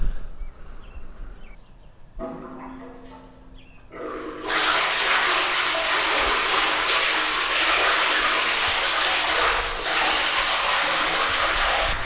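Water rushes into a well pipe feeding a reservoir. After a few seconds of quiet knocks and trickles, a loud, steady gushing flow starts abruptly and keeps going close by.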